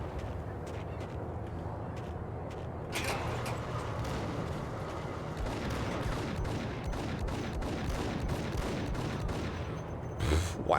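Shotgun blasts and grenade explosions in the video game Max Payne: dense, rapid bursts of gunfire and booming blasts over a constant rumbling din, with a loud crack near the end.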